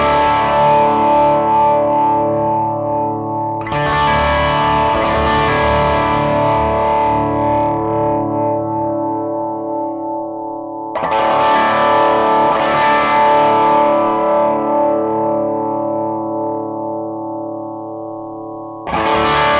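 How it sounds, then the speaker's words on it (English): Guitar chords played through a Bondi Effects Del Mar Overdrive pedal, three distorted strummed chords ringing out loud and sustained, the first with boosted bass and later ones with the bass cut, no talking. "I'm going to boost the bass and then I'll cut the bass and play a chord again."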